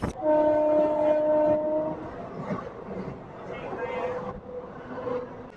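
DEMU passenger train on the Hindupuram–Guntakal line sounding a loud, sustained horn blast at the start, then rumbling along steadily with rolling wheel and engine noise.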